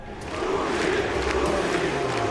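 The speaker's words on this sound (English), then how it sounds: "Listen to frauds as they are cheering for Uzi." An esports arena crowd roars and chants in support of League of Legends player Uzi, a dense, steady mass of voices heard at a moderate distance for a couple of seconds.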